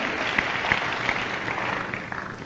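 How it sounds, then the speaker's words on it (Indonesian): A church congregation at a Pentecost leadership training session claps together, a dense, steady patter of applause filling the hall with a few sharper individual claps standing out. "Dengan tepuk tangan saudaraku,"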